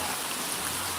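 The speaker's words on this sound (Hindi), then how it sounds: "बारिश देख ले कितना तेज बारिश होती है।" Heavy rain pours down in a steady, dense hiss with no breaks, even and continuous throughout.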